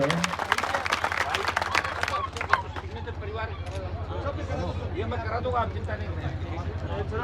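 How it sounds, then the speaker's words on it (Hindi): Crowd applause at a political gathering in Kudi, Bhopalgarh, Rajasthan, for a statue unveiling: steady clapping throughout, mixed with murmuring and babble, with a low hum underneath. "एक बार तालियां बताएं हनुमान जी बेनीवाल के लिए"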